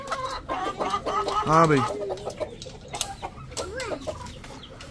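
Black Silkie chickens cluck and call close by at a farm, several birds vocalizing in short bursts with one rising squawk, while someone speaks briefly.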